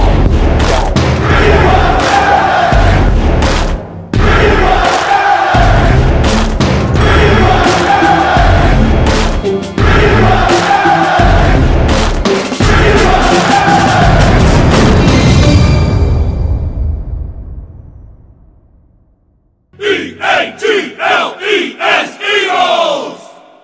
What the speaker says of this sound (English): I'm thankful for all the great Eagles fans cheering us on to beat Dallas.